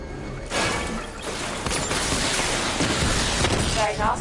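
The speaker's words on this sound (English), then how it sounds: "Missile barrage level 2 ready." Batmobile missile barrage in Batman: Arkham Knight, a dense, loud roar of launches and explosions with crashing debris, continuous and close, ending with a brief rising whine.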